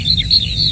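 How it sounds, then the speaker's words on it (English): Male skylarks sing for territory over spring moorland in the Brecon Beacons, their high, rapid warbling trills rising and falling in several overlapping phrases against a soft low background. "a choir of skylarks. These males are singing for territory."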